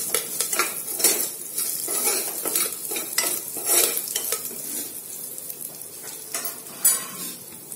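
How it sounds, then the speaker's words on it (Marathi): Turmeric being sautéed in a pan while cooking moong dal khichdi: a steady, moderately close sizzle with repeated spoon scrapes and stirring clinks against the metal, no voices. "हळद पण छान याला परतून घ्यायची"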